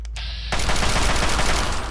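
Gunfire in Fallout 3: a single sharp shot, then a loud, sustained burst of rapid automatic fire that stays dense and close until the end, with no talking.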